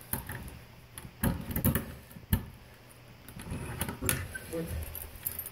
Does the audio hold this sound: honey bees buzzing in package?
no